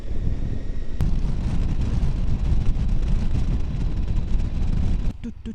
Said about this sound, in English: Whoop, it's windy.